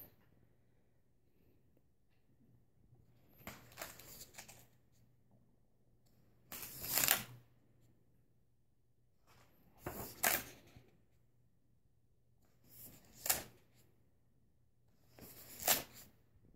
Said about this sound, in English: I'll just do some flipping here for you